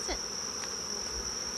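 Honeybees buzz steadily as they are brushed off a honey super with a large turkey feather, a close, continuous drone with a few sharper passes.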